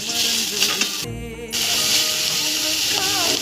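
Chili powder and salt fry in hot oil in a pan for a Kerala-style green bean stir-fry, giving a loud, steady sizzling hiss that drops away briefly as it is stirred, then surges back.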